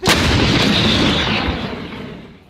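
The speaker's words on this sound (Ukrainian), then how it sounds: "Гармата!" One powerful Ukrainian artillery gun blast booms out close and loud, its deep rumble rolling and slowly decaying over the next couple of seconds.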